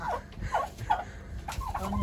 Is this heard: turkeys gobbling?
yes